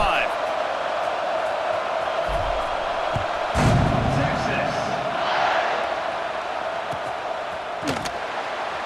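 Stadium crowd in a college football video game, a constant roaring wash of cheering that swells briefly partway through, with a commentator speaking over it.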